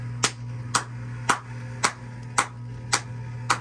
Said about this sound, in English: We're going to do a clap sync here in just a second to resync all this stuff.